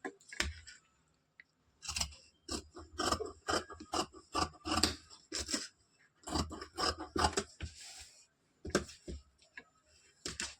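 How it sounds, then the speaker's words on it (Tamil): Scissors cut a piece of blouse fabric with a run of quiet, close, crisp snips and rasping cuts in irregular bursts, with short pauses between them. "இப்போ இந்த பீஸ் அப்படி கட் பண்ணி எடுத்துக்கலாம்"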